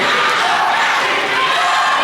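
A brief, steady burst of crowd noise fills a roller derby venue, with many voices blending into a dense, sustained roar of cheering and no individual words standing out.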